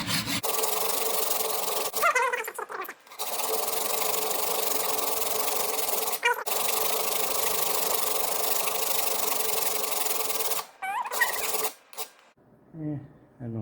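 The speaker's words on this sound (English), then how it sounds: "I'm doing this all with a coarse file" A metal hammer head worked with a coarse file, giving a steady, loud rasping scrape in long continuous strokes broken by a few short pauses.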